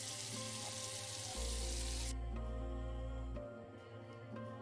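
A water sound effect played from a soundboard during a roleplay game session, a dense continuous hiss like running water from a tap that stays loud throughout with a low hum underneath.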